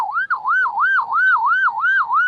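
An ambulance siren wails in a steady, repeating rise-and-fall cycle, loud and close throughout, with no other sounds competing.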